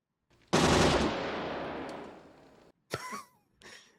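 In the 1987 film RoboCop a large gun gives one loud, close burst of rapid fire that decays into a ringing tail. Two short sharp sounds follow after a brief gap.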